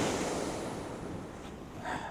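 Ocean waves wash steadily under strong wind buffeting the microphone, a loud, continuous roar of surf and gusts out on open water.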